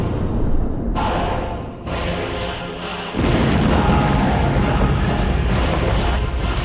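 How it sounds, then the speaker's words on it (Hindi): Several heavy booms roll out one after another, a huge explosion on the bridge linking Russia to Crimea, with deep rumbling that swells and lingers loudly, with faint voices underneath. "रूस को क्राइमिया से जोड़ने वाले पुल पर बहुत बड़ा धमाका होता है"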